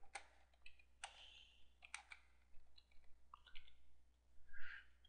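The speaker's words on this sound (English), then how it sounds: "I start typing" Typing on a computer keyboard while setting up text for a banner, heard as scattered, fairly faint key clicks in short bursts with pauses, no talking.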